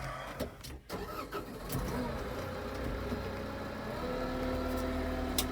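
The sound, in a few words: tractor engine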